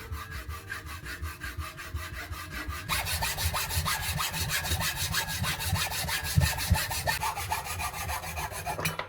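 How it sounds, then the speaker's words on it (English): A handsaw cuts through a piece of wood clamped in a vise, with a steady rasping back-and-forth rhythm. The strokes grow louder and brighter partway through and continue without any talking. "Clamp the wood in a vise and cut along the marked line using a handsaw."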